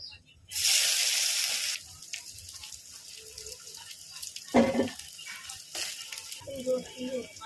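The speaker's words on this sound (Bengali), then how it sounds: "দেখো এই যে জিরে, সাদা জিরে ফোড়ন দিচ্ছি।" White cumin seeds dropped into hot oil for tempering give a loud, bright sizzling burst lasting about a second, then quieter crackles and kitchen clatter follow under occasional voice sounds.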